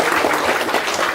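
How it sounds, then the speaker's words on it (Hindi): Applause from guests at an engagement ceremony, a steady dense wash of clapping filling the whole short moment at moderate loudness with no voices over it. "प्लीज तालियां हो जाए"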